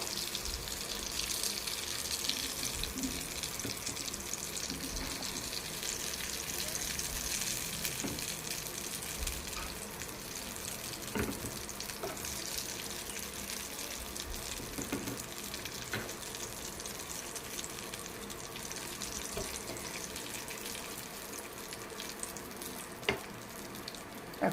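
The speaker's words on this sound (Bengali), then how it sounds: "আমার ধোকাগুলো সব ভাজা হয়ে গেছে।" Dhoka lentil cakes frying in oil give off a steady, dense sizzle that carries through the whole stretch, with a few sharper pops and crackles standing out now and then.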